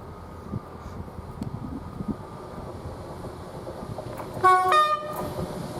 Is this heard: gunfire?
no